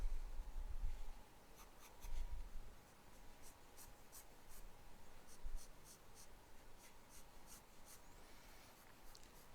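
A pencil sketches lightly on paper with soft, scratchy strokes that come in short bursts and steady rubbing, close and quiet, with no talk.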